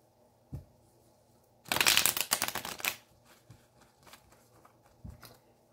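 A deck of tarot cards being shuffled in a quick riffling burst of about a second, close and crisp, surrounded by quiet room tone and a few soft handling taps.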